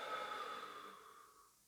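A single long exhale during diaphragmatic breathing, a soft airy breath out that fades gradually, close and quiet with no talking.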